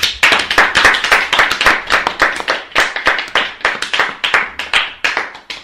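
A church congregation claps in a steady rhythm to acclaim the Lord, loud and close, with some faint voices among the claps.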